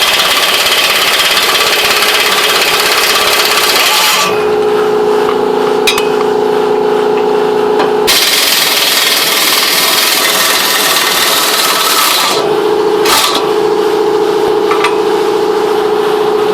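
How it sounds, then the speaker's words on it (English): An impact wrench works loose GM exhaust manifold bolts, running in two long, loud bursts of harsh mechanical whirring and buzzing separated by short pauses, close up and with no voices. "I strongly recommend using an impact"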